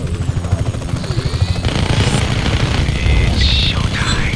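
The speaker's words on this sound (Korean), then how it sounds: "자, 이제 헬기가 있으니까 다 부셔버리면 되겠어." Helicopter in the video game Just Cause 3, a loud rhythmic rotor thump that gives way to dense engine roar, gunfire and explosion-like bursts.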